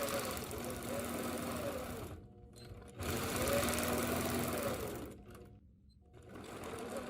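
A sewing machine stitches in the ditch between quilt blocks, running in steady whirring bursts that break off into brief pauses twice before starting up again.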